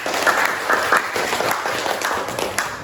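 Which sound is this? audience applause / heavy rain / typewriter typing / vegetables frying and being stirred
audience applause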